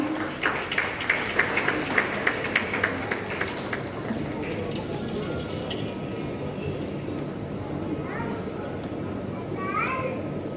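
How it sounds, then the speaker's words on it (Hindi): Applause at a seminar on working women's leadership, rhythmic clapping in a hall during the first few seconds before it fades into crowd murmur and children's voices. "तालियों से जोरदार स्वागत हो"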